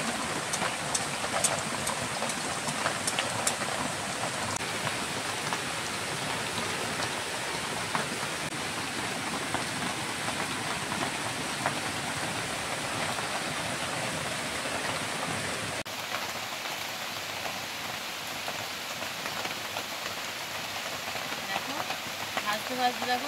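Chhana jilapi, cottage-cheese jalebi, frying steadily in hot oil, a dense continuous sizzle with crackle throughout, fairly loud and close, with no talking.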